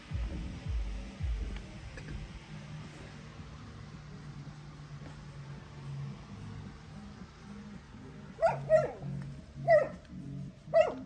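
A dog lets out several short, sharp yips and barks near the end, following a stretch of quiet low rumble and a few faint voices, in Siquijor, Philippines.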